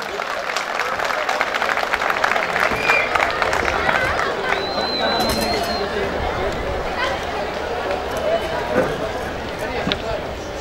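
A crowd at an Özler village gathering applauds as Mayor Veysel Filiz is welcomed onto the stage. Steady clapping runs throughout, mixed with crowd chatter and voices talking over it.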